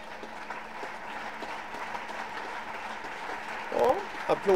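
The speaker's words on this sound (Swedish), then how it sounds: "Applåderna vi hör i bakgrunden är att Larissa Grieger slog in matchbollen som vinner damsingelfinalen" Applause from spectators in a badminton hall after the match point that wins the women's singles final at the Swedish championships, steady and moderately distant in the background, swelling near the end.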